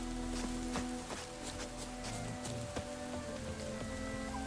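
Steady rainfall in Witcher 3: Wild Hunt patters on surfaces in a continuous hiss with scattered droplet ticks, moderately quiet and without speech.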